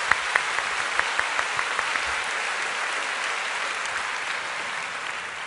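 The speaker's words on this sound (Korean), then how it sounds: "우리 박수로 격려하면 좋겠습니다." Church congregation applauding a youth choir after their hymn, a dense, even wash of clapping with a few sharper individual claps standing out early on, steady and fading slightly at the end.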